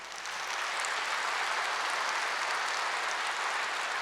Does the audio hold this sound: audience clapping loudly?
yes